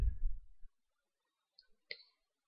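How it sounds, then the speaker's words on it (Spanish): A computer mouse clicks on an Accept button in an online contribution system, making a couple of faint, quiet clicks after a brief low thump, with no talk. "Y hacemos clic en el botón Aceptar."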